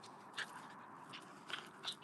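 A puppy biting and chewing makes faint, close, scattered nibbling clicks and small crunchy scrapes over a quiet background, with no voices.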